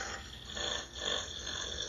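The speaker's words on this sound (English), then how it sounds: "That was a long burp." A long, drawn-out burp played by an Alexa smart speaker: one continuous rough, gurgling belch lasting nearly two seconds that swells and dips in loudness without a break.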